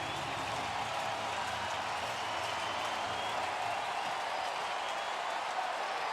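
Sellout crowd at a Giants home baseball game against the Brewers in the ninth inning, a steady broad roar of cheering and murmur filling the ballpark at even level throughout, with no clear voice above it.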